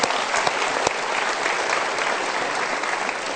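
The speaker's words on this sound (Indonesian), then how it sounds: "kita berikan tepuk tangan" Steady audience applause fills a stage event, dense continuous clapping from a large crowd, loud and even throughout with no talking.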